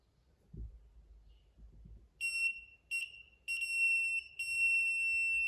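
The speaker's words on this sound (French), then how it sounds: "le détecteur capte le signal du téléphone et déclenche une alarme" A K19+ hidden bug detector sounds a shrill, high electronic alarm as it picks up a phone's signal, beeping on and off several times, then more continuously, loud and close after a quiet start.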